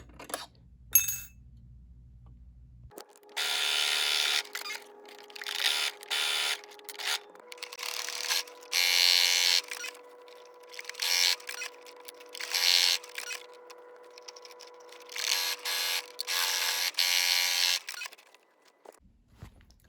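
Sewing machine with a regular foot and regular stitch length stitching the sides of an embroidered pouch, running in repeated bursts of rapid whirring broken by short pauses, close and clear with no talking.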